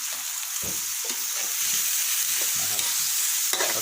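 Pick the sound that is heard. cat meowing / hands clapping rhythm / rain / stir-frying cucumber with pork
stir-frying cucumber with pork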